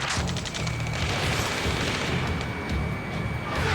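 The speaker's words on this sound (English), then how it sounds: "Taking fire! We're pinned down! Shoot back!" Heavy gunfire and explosions from the Ace Combat 7: Skies Unknown video game form a continuous dense barrage of booms and shots with a low rumbling underneath, loud throughout.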